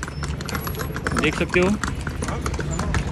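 Horse-drawn carriage pulled by a black horse on a road beside Luxor Temple, close rapid clip-clop of hooves in a steady trot beneath someone talking over street noise.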